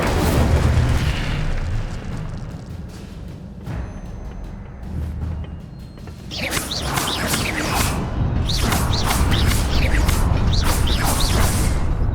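The Incendio fire spell cast in the video game Hogwarts Legacy bursts out loud with deep booming roars and crackling flame whooshes, intensifying into dense sustained fiery blasts in the second half.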